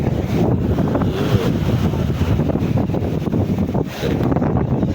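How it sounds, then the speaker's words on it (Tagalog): Strong wind buffeting the microphone outdoors in a steady, loud roar, with a faint wash of rough sea in the background and no voices. "sobrang lakas ng hangin"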